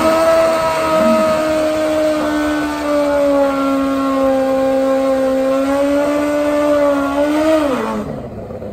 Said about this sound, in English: Long burnout there for Len Paget.